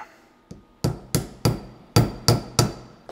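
A hammer strikes copper in the workshop while making a copper swing press: one light tap, then six sharp ringing blows at a steady rhythm, close and loud with no talking.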